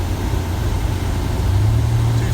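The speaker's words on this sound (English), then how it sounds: "Voila, we have a blower motor, and it is strong." A truck cab's blower motor running strongly after rewiring, giving a steady loud whirring hum inside the cab, mixed with low engine rumble throughout.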